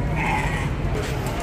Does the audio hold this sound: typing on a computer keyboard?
no